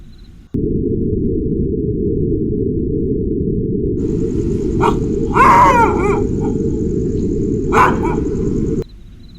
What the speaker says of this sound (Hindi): अचानक मुझे कुत्ते देखकर ज़ोर ज़ोर से भौंकने लगे